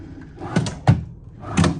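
Drawers in a Hilton Baton Rouge Capitol Center hotel room sliding open and shut, three short wooden knocks and scrapes spaced across under two seconds, fairly close and with no talking.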